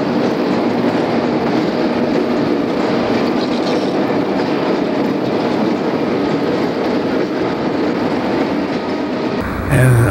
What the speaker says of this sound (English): Here's the Blue Man westbound crossing the valley at Pittston Junction.